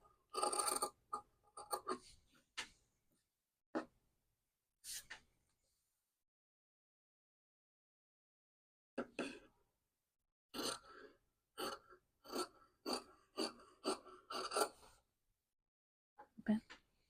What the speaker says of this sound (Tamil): முன்பக்க கழுத்தை வெட்டுறேன்